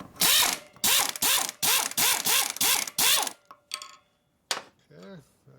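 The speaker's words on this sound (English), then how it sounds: "Let me get the nut out of here. That requires a socket." A ratchet with a 9/16 socket loosens a nut on a 1937 Harley knucklehead four-speed transmission, giving seven loud, close bursts of rapid pawl clicking in a steady rhythm, then a few scattered fainter clicks.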